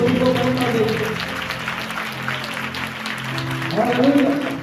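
Congregation clapping to glorify God at a church service in Raipur, Chhattisgarh, steady applause under sustained music and singing tones that swell near the end.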